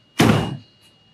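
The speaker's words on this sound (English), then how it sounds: "So if we close the door now" A door on a 2024 Essex motorhome swings shut with a single solid thunk and a brief rattle as it settles, loud and close, with no talking.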